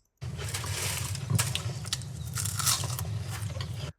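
Close, loud crunching of air-fried kale chips being bitten and chewed, a dense run of crisp cracks and crackles with a few sharper bites, continuous for several seconds with no talking.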